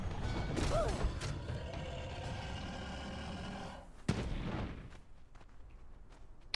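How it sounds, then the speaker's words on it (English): In the Conan Exiles video game, an explosion erupts amid busy mechanical clatter and rumbling noise, followed by a sharp loud burst and a fading, quieter tail. "Who added on that little extra explosion?"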